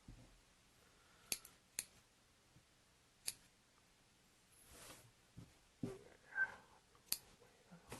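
Scissors snipping a long thread, several sharp, quiet clicks spaced irregularly over a soft, low background, with faint handling rustles between cuts.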